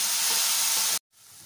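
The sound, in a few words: tamarind and tomato frying in a pan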